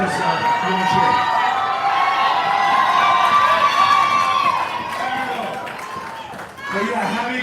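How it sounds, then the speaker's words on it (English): A large crowd of fans cheering, whooping and shouting at a live hand-and-footprint ceremony outside the Chinese Theatre in Hollywood, a loud sustained roar with high voices and scattered claps, dipping briefly before swelling again. "Why are the fans louder than my family?"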